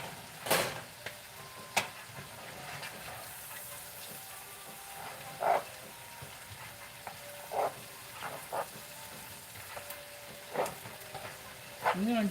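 Garlic and butter frying in a pan with broccoli nearby, a soft continuous sizzle and hiss with occasional louder pops and crackles scattered through, fairly quiet and without clear talk.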